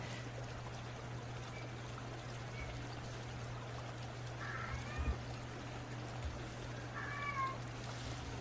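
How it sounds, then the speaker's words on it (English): Two faint, short meows sound from a distance over a steady low hum and background hiss, spaced a couple of seconds apart. "Could have sworn I heard Harbor meowing."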